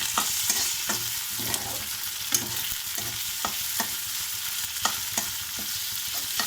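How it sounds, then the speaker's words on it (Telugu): Ginger garlic paste stirred in a frying pan for an okra fry, with repeated rhythmic spoon scrapes and taps over a low, steady sizzle, close by and with no voices. "బాగా కలిపేసుకుందాము."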